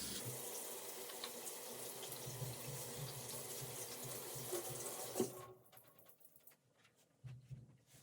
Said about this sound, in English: let me wash my hands because I'm about to touch the cake